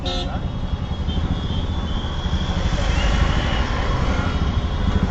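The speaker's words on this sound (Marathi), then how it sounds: "मग मात्र मी हॉर्न वाजवायला सुरुवात केली." A car horn honks in road traffic where vehicles are coming the wrong way. It sounds as a loud, sustained, close blare over a thick rumble of engines.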